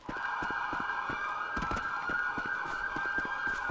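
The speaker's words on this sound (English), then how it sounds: "Wait, I still hear sirens." Police sirens wail steadily in the street scenes of GTA5 roleplay, a continuous sustained tone with overlapping clicks and traffic noise, moderately distant.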